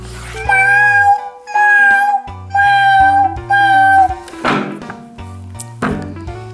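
A toy cat plays a synthesized meow several times in a regular rhythm over a bouncy electronic jingle, loud and close, with a couple of clicks near the end.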